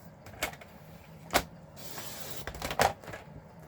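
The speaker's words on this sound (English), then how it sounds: "I think I'll just go ahead and cut this strip now" A strip of stamped paper is trimmed for handmade cards, likely on a paper trimmer, giving a few short, sharp swipes and clunks at irregular moments, close and moderately loud over quiet room noise.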